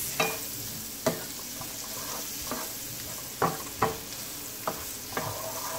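Stir frying curry pineapple shrimp in a pot, with intermittent sharp scrapes and clacks of a utensil against metal over a steady low sizzle; no talking.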